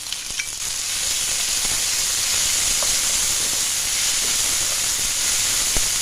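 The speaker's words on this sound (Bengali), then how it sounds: "এবার আদা রসুন বাটাটাকে ভালো করে নেড়ে চেড়ে ভেজে নেব" Ginger-garlic paste frying hard in a pan while being stirred, a loud, continuous hissing sizzle with a few faint clicks of the spatula and no talking.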